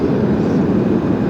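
Airbus A330 airliner landing hard at LAX, a steady, loud low-frequency roar of engines and rolling wheels running without a break, with no voices over it.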